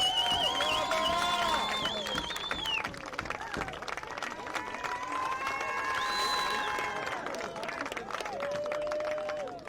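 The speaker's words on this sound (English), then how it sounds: "Give a big round of applause." Crowd at the 2019 ABC Border Bowl youth football event applauding and cheering as trophy winners come up, steady clapping from a large outdoor audience with whistles and chatter mixed in.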